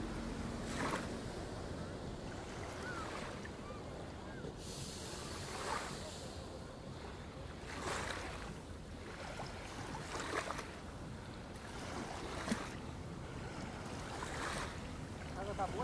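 Sea waves wash in repeatedly in slow surges at Lagoa da Conceição, with wind buffeting the microphone throughout.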